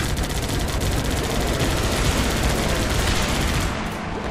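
Dense, continuous automatic gunfire and fusillade in the Guns Up! war game, loud and unbroken throughout with rapid rattling bursts, easing slightly near the end, and no voices.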